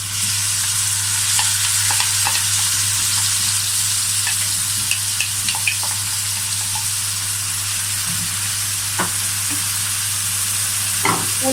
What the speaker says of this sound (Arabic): ودلوقتي هحط حبة زيت في الطاسة وهضيف البصل الاول